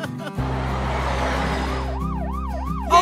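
An ambulance siren in Roblox Brookhaven starts with a steady tone, then switches to a loud, rapid wailing sweep, heard up close over a low engine hum.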